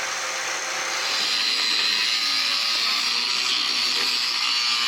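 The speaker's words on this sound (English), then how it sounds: "He's grinding down more of his welds" Angle grinder grinding down welds on a Mk3 Supra in a garage, a steady, loud high-pitched whine with a continuous hiss lasting the whole stretch, no pauses.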